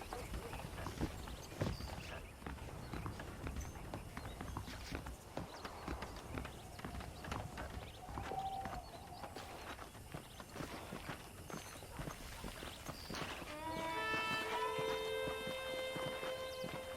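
Horse hooves clip-clop steadily while riding at a ranch in the video game Red Dead Redemption, a clear rhythmic walking beat under faint background game sounds, with a brief bright tonal musical flourish near the end.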